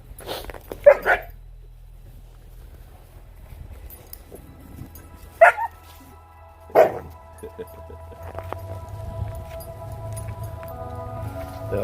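Dogs in a pack feeding on a deer carcass give a few sharp barks and yips spaced seconds apart, over a low rumbling background.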